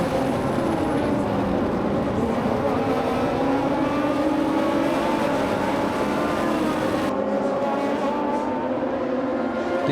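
Race cars at the Grand Prix de Trois-Rivières street circuit roar steadily past in a dense engine blend, loud and continuous, with the pitch shifting slightly near the end.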